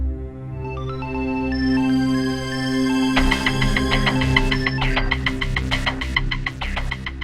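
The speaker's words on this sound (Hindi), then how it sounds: "इतनी रात को किसका फोन है?" An electronic phone ringtone plays a repeating melodic tone, joined midway by a brighter, pulsing ring pattern, loud and close, with no voices.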